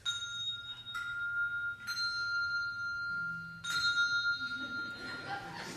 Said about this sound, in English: Do you have your chime handy by chance as well, Allison?